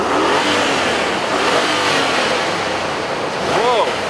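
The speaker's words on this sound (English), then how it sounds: "there's a lot of engine induction noise coming out the front of this truck" A 2014 Nissan Titan PRO-4X truck revs its engine with loud induction noise from the front, a steady roaring drone heard up close while people talk over it.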